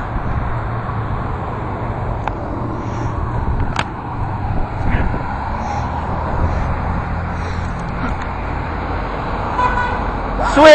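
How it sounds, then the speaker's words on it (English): Car horns honking from passing traffic on a busy road, a few short toots standing out over steady road noise and engine rumble, with people talking and cheering nearby. "Sweet! Another honk."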